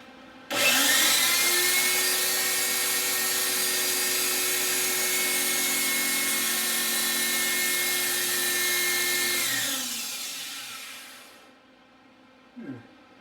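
Fine silver coin ring being sanded with 1000 grit abrasive on a power tool: a steady, loud whirring grind running about nine seconds, then winding down and fading out, with a brief faint knock at the end.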